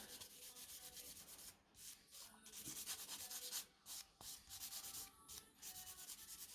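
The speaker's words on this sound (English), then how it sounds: "So gently buffing across the surface to etch the nail in preparation for the base coat." Soft, rhythmic rubbing strokes of a buffing block across a fingernail, repeated back and forth with brief pauses, close and quiet.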